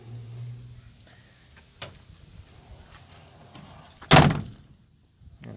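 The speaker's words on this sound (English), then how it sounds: "You got to kind of lift it to shut it." The door of a 1964 Chevy C20 pickup truck, with a worn, loose door pin, is lifted and shut with one loud, close metallic slam after some quieter rattles and knocks.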